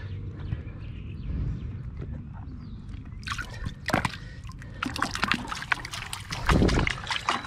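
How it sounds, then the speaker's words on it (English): Water runs through a storm drain, with irregular sloshing, splashing and knocking that grows busier and louder toward the end, heard close up without speech. "that's all the water we have is flowing right through there"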